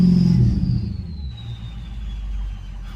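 A 6.0 diesel truck engine, warmed up, revs up close by, a steady mid-range roar with a rising whine that slowly falls off as the revs settle.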